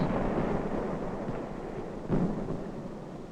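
A barrage of 4.2 heavy mortars firing in the Korean War, a continuous deep rumbling roar with a stronger thump near the end, distant and muffled.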